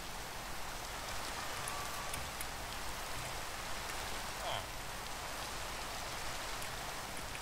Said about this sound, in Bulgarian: Не, дъжд не искам.